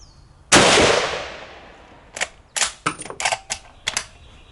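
A loud, sharp report from an Ishapore 2A1 7.62x51 rifle at a shooting range rings out and decays, followed by a rapid series of metallic clacks and clicks.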